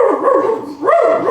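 A man imitates a dog barking with his voice, giving a few wavering, yelping bark-like calls that are loud and close, with no other talk.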